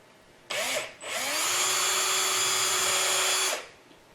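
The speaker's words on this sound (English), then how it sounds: "I take a little bit of drill bit, I come over here and I drill me 2 pilot holes" A small drill buzzes in a short burst, boring shallow pilot holes in a grinder, pauses briefly, then runs steadily for about two seconds before winding down; no talking.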